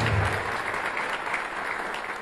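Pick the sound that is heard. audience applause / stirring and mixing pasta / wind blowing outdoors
audience applause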